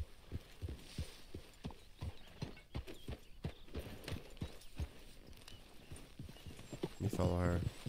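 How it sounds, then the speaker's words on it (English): Horse hooves clip-clop in Red Dead Redemption 2, a steady, even trotting rhythm of soft thuds throughout, with someone talking over it and a brief whinny near the end. "Come on, horsey, Porgy."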